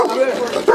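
A dog attacking during a police encounter in Utah gives a short, close, tonal bark-like yelp, about a second long, amid shouting.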